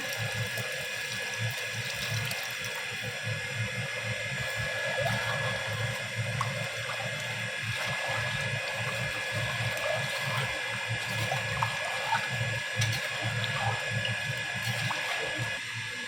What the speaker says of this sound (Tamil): நான் புளியை நல்லா கரைச்சி வடிகட்டி வச்சுக்கிறேன். ஊற்றிக்கலாம்.